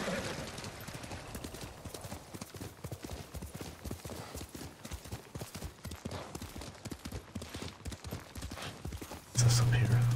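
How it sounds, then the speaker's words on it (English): Hooves clip-clop steadily as a horse trots in the Ghost of Tsushima video game, a dense rhythmic patter close up with game ambience around it, ending in a sudden louder burst. "You're a good horse, Nobu."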